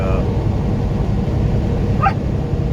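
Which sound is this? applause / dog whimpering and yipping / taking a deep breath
dog whimpering and yipping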